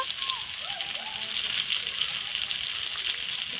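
Chicken seekh kebabs for kathi kebab sear with a steady, hissing sizzle, with a voice speaking faintly over the crackle.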